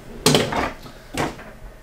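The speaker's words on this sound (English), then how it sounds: "Big drawer right here." A big soft-close kitchen drawer in a 2023 Forest River Flagstaff Classic 528IKRL travel trailer shuts with two quick, muffled thuds about a second apart, fairly quiet and alone.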